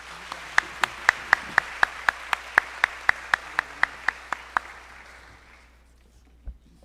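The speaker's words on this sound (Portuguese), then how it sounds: "peço uma salva de palmas à professora Ivete" Applause for a professor at a consumer law conference, heard as a clear, evenly spaced series of sharp single claps standing out above a softer wash of audience clapping, tapering off after about five seconds.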